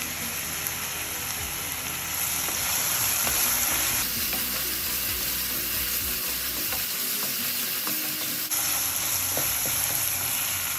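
Green chillies and onions fry in oil, a dense close sizzle with scraping stirs throughout, the hiss swelling and easing as the pan is worked.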